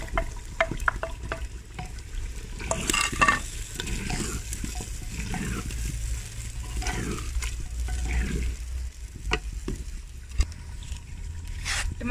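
Tomatoes and green chillies frying with spices in a handi pot for chicken daleem, a steady close sizzle with scattered stirring scrapes and clinks, no talk.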